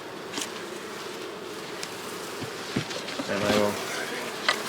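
Honey bees hum around a brood frame during hive work, a steady close buzzing drone with occasional frame knocks and scrapes, under a man's speech.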